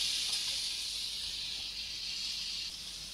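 Vegetable pieces in a hot ghee tempering for a fasting-day vegetable salad, a steady, even, loud sizzling hiss that holds throughout with no voices.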